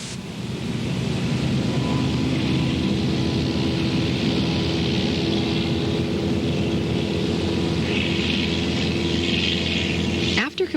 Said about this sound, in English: we taxi to the designated runway, take off, and become airborne